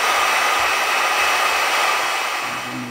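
A heat gun blows a steady, loud, close rush of hot air under the aluminium tank badge of a BMW K100 café racer, continuous for the whole stretch and easing slightly near the end.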